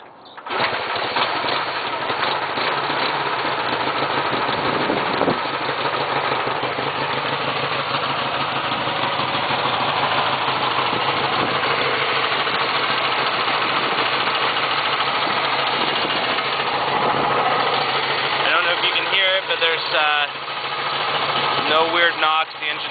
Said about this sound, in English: I'll fire her up so you can hear it.